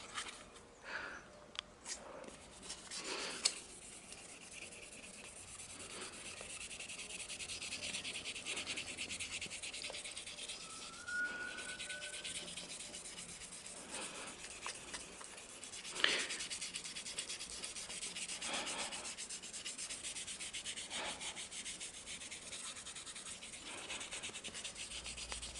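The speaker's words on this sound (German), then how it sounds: "Gehen vielleicht davor noch mal mit der 4000er Körnung drüber." Wet sanding of a car's clear coat with 4000 grit sandpaper: a steady, soft rubbing and scratching texture continues throughout, close and fairly quiet, with a few brief louder scrapes and no talking.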